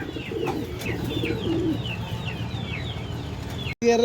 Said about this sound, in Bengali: খুব সুন্দর একজোড়া কালো কালো কবুতর আছে।